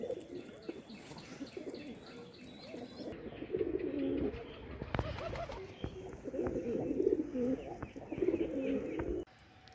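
Domestic pigeons coo in a loft in repeated low, throaty bursts close by. Occasional chirps and a brief flutter of wings are mixed in.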